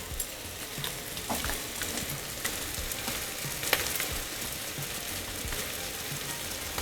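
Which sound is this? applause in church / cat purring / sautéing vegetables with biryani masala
sautéing vegetables with biryani masala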